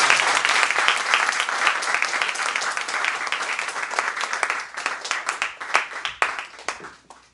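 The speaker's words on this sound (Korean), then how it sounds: "하나님께 영광의 박수" A church congregation at a Sunday service claps in a loud, close burst of applause that stays dense for several seconds, then thins into scattered claps and fades out.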